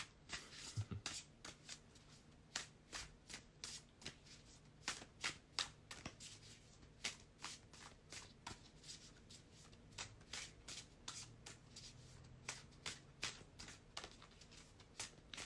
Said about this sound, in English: Sometimes I feel like I'm too good at shuffling